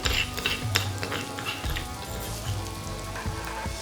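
Eggplant pieces being stirred in a pan for a vegan curry, with a spoon scraping and clattering against metal over a steady sizzle, near and fairly loud throughout, with no talk.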